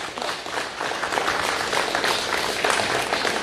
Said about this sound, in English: Would you please join me in giving a warm round of applause to Rocky Dahl?